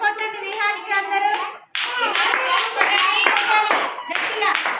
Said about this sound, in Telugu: క్లాప్స్ కొట్టండి విహానికి అందరూ